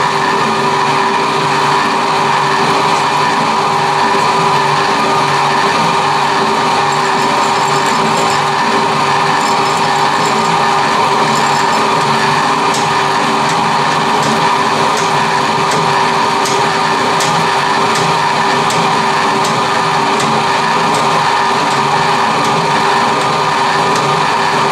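A power hacksaw cuts through metal stock, clamped in a vise with stripped bolts, giving a steady, loud, continuous mechanical grind and rasp with a faint repetitive ticking for the whole stretch, no voices.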